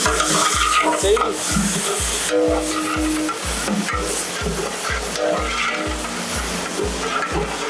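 Garlic paste with coriander and mint leaves sizzling and being stirred in a hot pan for mutton biryani, a loud steady fry with rhythmic scraping strokes throughout.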